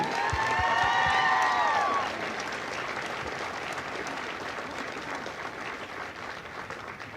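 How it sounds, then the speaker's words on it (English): Sustained applause from a crowd at a Marine Corps recruit graduation in San Diego, steady dense clapping with some brief whistles or cheers at the start, continuing loud throughout. "please join me in a well-deserved round of applause for the drill instructors and families"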